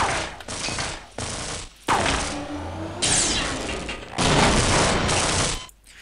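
Rapid weapon fire in the shooter game Half-Life: Opposing Force, with loud, dense bursts of shots and crashing impacts that come in several long volleys broken by short pauses.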